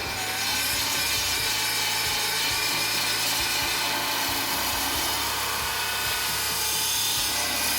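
Angle grinder cutting through spot welds on the trunk inner structure of a 1968 Dodge Charger R/T, a loud, steady high-pitched grinding whine that runs unbroken from start to finish.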